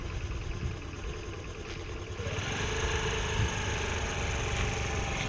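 A scooter engine, running through a first-day riding lesson, idles steadily at close range; the tone rises slightly partway through and then holds as a constant hum, with no one talking.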